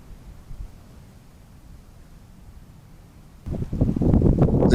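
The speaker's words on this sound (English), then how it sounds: "The wind had also picked up once again." Wind picks up in a woodland in January, a soft steady rush that suddenly swells into louder, gusty buffeting for the last seconds.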